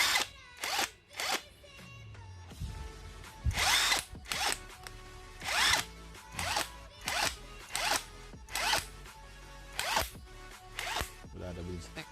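A JLD 48V brushless cordless impact wrench with a half-inch socket fires in roughly ten short, loud, rattling bursts under load, separated by brief pauses, close to the listener.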